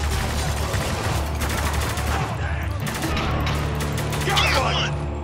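Dense, loud gunfire from the video game Spec Ops: The Line, with sustained automatic bursts and overlapping shots filling the whole stretch without a pause.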